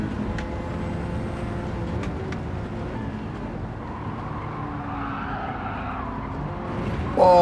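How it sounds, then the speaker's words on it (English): 1980s race car in Gran Turismo 7 driving at speed, steady loud engine drone with tyre squeal and shifting pitch, plus the sounds of other cars nearby. "Just love this car, the way it handles, the way it sounds."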